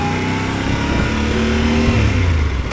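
A Yamaha Tenere 700 motorcycle, fully loaded, riding off-road, its engine droning steadily and close, with the pitch shifting slightly as the rider works the throttle throughout.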